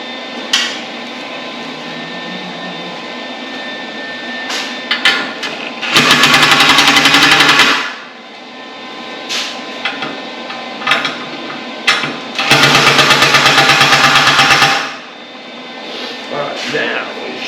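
Bolts on a DS quadra link rear suspension are tightened in a garage in two long rattling bursts of a powered impact tool, loud and close, with clanks and workshop noise between.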